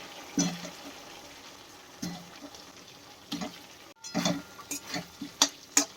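Fried potatoes go into spiced masala in a pan in a village kitchen, with a soft sizzle under a series of clinks and scrapes that grow busier toward the end, no talk.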